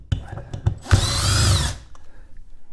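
Cordless power drill backing screws out of a wall during a Ford Mobile EV Charger install: one close, loud whirring burst of just under a second, framed by brief knocks and handling clatter.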